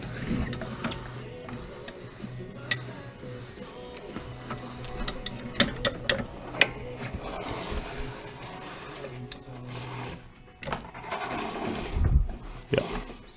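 Ratchet cranking down coilover suspension on a bugeye Subaru WRX build, with a run of quick mechanical clicks and scattered sharp metallic ticks at close range amid workshop clatter.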